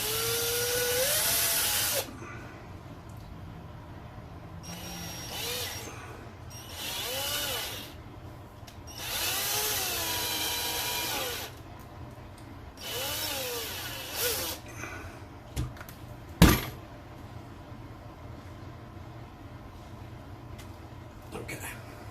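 A power drill bores holes in an RC car bulkhead on a Traxxas Slash drag build, with several whining bursts of a few seconds each separated by pauses and handling clicks, close and moderately loud.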